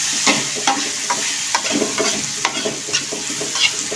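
Thin slices of bitter melon stir-fried in a pan, a continuous oily sizzle broken by frequent sharp scrapes and clacks of a spatula tossing the pieces, close and clear, with no talking.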